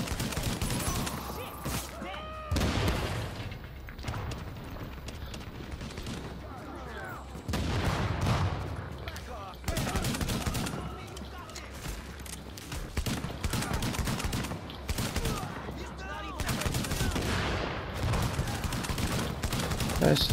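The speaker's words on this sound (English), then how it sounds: "Pop those explosive rounds." Explosive rounds firing in The Division video game, rapid bursts of gunfire and booms in dense, sustained volleys across the whole stretch, loud and close, with brief pauses between barrages.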